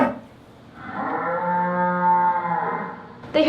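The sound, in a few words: three cows lowing loudly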